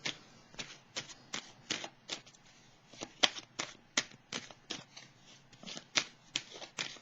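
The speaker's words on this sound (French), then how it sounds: "Je vais piger une carte ici." Tarot cards being shuffled and drawn, a close run of crisp riffling snaps and flicks in an uneven rhythm, with no talking.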